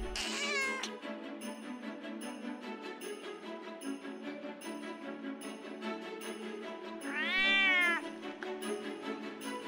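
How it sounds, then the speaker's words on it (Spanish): A cartoon kitten gives a string of short, high, quavering meows close up, with one longer, drawn-out wail near the end, all over a quiet, continuous background. "¡Es un pequeño gatito!"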